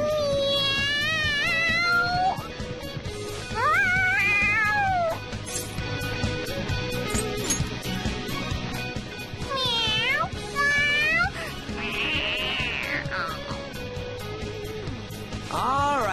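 A cat meows repeatedly in Persona 5, with excited, rising and falling cries in several bursts over a steady backdrop of game music.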